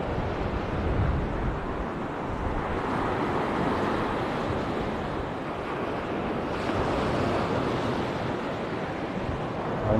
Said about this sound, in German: Ein herrliches Meeresrauschen bei dem aufgewühlten Wasser heute.